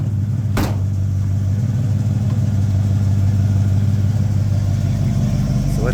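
A 1953 GMC panel truck engine runs at a steady low idle with a deep, constant rumble, close and loud throughout, with one brief knock early on and no talking.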